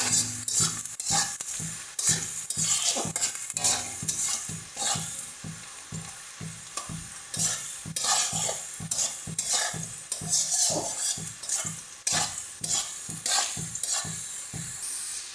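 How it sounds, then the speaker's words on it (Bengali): Potatoes fry in hot oil with a loud, continuous sizzle and rhythmic scraping from repeated stirring against the pan, up close and without talk. "এবার আলুটা দিয়ে ভেজে নিচ্ছি। আলুটা দিয়ে ভালো মতন করে ভেজে নেব।"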